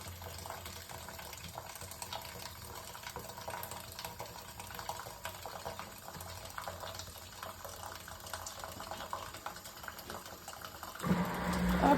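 Water trickles steadily into a Mahugde countertop dishwasher as it fills, a quiet continuous splashing that lasts throughout, with a brief louder surge at the very end.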